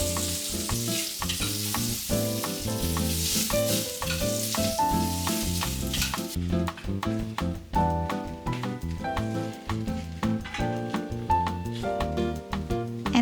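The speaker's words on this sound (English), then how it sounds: "Cook the spinach until tender." Spinach sizzles and fries in a pan for bibimbap, a steady hiss that stays under loud, continuous background music for the whole stretch.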